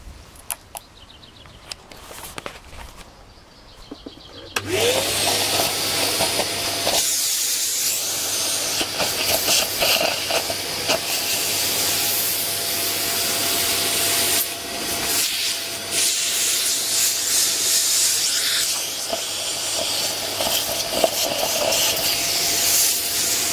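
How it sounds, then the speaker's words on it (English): A vacuum cleaner sucks debris out of the engine block of a 1952 Massey Harris Pony 812 tractor: a quiet start, then a loud steady whooshing roar with rattling and scraping as dirt is drawn in, continuing without talk. "Vacuuming out that engine block, that worked really well."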